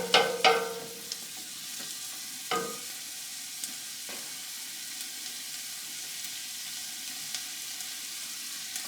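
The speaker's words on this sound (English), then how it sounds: "I've put just like a half a cup for this big pot with some lard and the onions, and I'm going to saute this for a few minutes." Onions sauté in lard in a big pot of farmhouse borscht, with a few sharp clanks and scrapes of a utensil at the start, then a soft, steady sizzle that continues quietly underneath.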